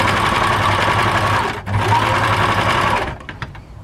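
A sewing machine stitches quilt fabric with a fast, steady mechanical whir, dips briefly in the middle, resumes, and then winds down to a few scattered taps at the end.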